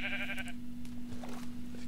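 Sheep bleating in the game Minecraft, a few short bleats near the start of the clip, loud against a steady background hum with no talking.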